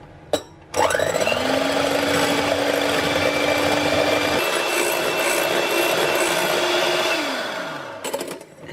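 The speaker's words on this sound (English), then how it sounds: "we'll just whisk up the whites." Electric mixer whisking egg whites in a bowl toward a meringue-like foam, a steady loud whirring drone with a sustained motor tone that shifts once midway before winding down.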